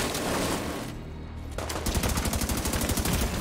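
A mounted machine gun turret fires in the video game The Division 2. A dull, muffled stretch gives way to loud, rapid, evenly spaced bursts of automatic gunfire that hammer on steadily until the end.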